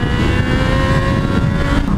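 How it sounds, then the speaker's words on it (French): A motorcycle engine revs hard as the rider pulls a wheelie, a loud, close, sustained buzzing drone over two seconds. "on fait un petit wheeling"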